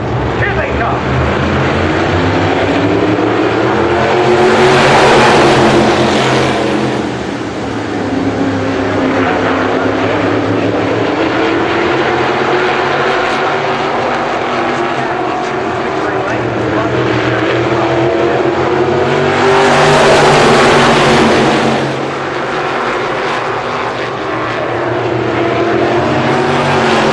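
Super modified race cars roar around the oval in a 30-lap Ironman main event, a dense wall of engine noise that swells as the pack sweeps past twice, with an announcer talking over it.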